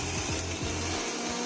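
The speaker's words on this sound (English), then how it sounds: "let's grind this onion and garlic" Onion and garlic are ground for kimchi paste, likely in a blender or grinder, producing a loud continuous whirring roar with a few rhythmic low thumps as the pieces churn.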